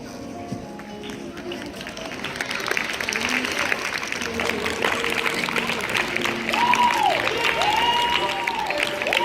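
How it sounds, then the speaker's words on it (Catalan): A crowd claps in sustained applause at a primary school Peace Day event, dense and steady, with some faint voices and musical tones mixed in. "Un aplaudiment ben fort."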